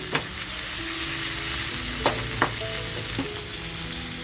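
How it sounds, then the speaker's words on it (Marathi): Hilsa fish frying in a pan over a full flame, a loud continuous sizzle with a few sharp scrapes and clinks as the pieces are nudged to keep them from sticking, no voices. "मग हलकंसं आपल्याला फक्त असं हलवून घ्यायचंय, जेणेकरून आहे ना आपली मच्छी चिकटणार नाही"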